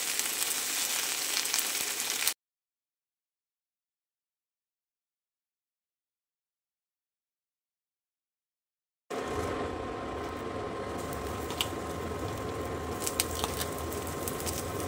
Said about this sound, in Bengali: সব একসাথে কিন্তু আমি ভাজছি।